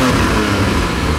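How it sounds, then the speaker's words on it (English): Porsche Cayman GT4 naturally aspirated flat-six in sport exhaust mode, a brief loud, steady engine roar filling the moment with no speech. "Take a listen to this engine in sport exhaust mode."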